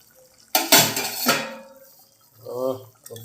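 A lid comes off a pot of steamed pabda fish with a loud metallic clank and scrape, followed by a softer rattle and a brief hiss of steam.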